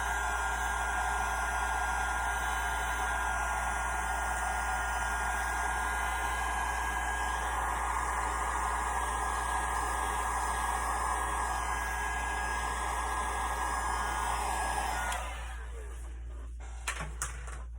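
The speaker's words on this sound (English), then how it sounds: "If you don't like the noise of a heat gun, turn it off now." A large Mondo heat gun from Harbor Freight blows with a steady, loud rushing whir and a constant motor hum, then cuts off near the end, leaving a few faint clicks and handling knocks.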